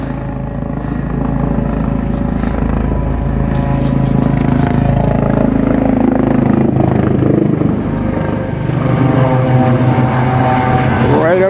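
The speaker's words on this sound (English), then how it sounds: "It's a Coast Guard rescue helicopter." A loud Coast Guard rescue helicopter drone with steady rotor chop, close and continuous throughout, briefly dipping before swelling again.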